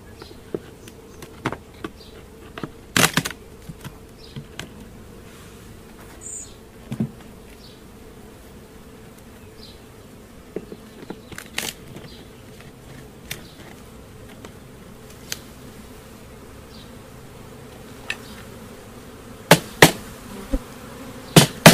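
Honeybees buzz faintly around an open beehive while the colony builds fresh white comb, with a low steady hum punctuated by sharp clicks and knocks from handling the hive frames.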